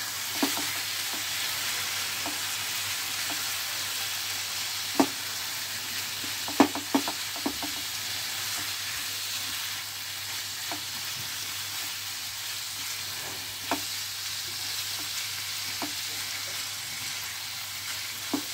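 Spiced doi keema frying in a pan, a continuous close sizzle broken by sporadic scrapes and clacks of a spatula stirring and turning the mince, with no voices.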